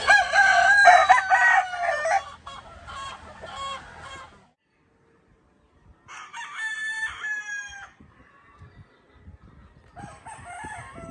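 Texas and Asil gamefowl roosters crow nearby in several loud calls separated by quiet gaps, with softer clucking between them on a farm.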